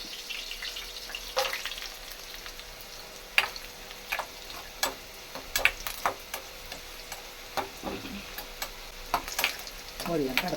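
Sun-dried vadiyalu fry in a kadai with a continuous close sizzle, broken by frequent sharp ticks and clatters from stirring and turning in the pan.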